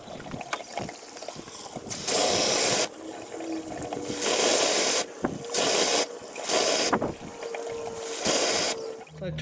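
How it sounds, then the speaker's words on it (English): Water and compressed air pumped through the cooling system of a 2005 Toyota RAV4 during a radiator flush, with bursts of loud hissing spray alternating with quieter gurgling flow, repeated several times in close succession. "So I'm gonna be pumping water through the cooling system right now."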